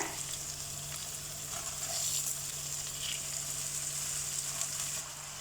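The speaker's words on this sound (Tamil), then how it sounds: "பாஸ்மதி ரைஸை நல்லா கழுவிட்டு ஊற வச்சுட்டேன். அந்த ரைஸை இப்போ இதில் சேர்க்க போகிறேன்." Soaked basmati rice added to frying masala in a pan for prawn mandi, a soft, steady sizzle with faint stirring scrapes, quiet and close with no talking.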